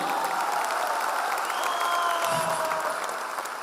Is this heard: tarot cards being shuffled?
no